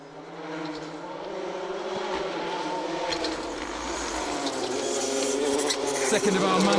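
A Ford Fiesta rally car on a forest stage, a rising engine roar that builds steadily as it approaches and passes, heard alone at a moderate distance.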